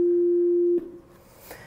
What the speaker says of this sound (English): So we have like tones, like little pure tones.